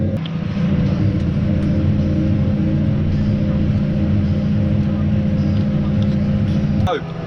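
Case Puma 175 tractor, 175 horsepower and boosted, idles with a steady low diesel rumble throughout, close and fairly loud, ending in a brief clunk near the end.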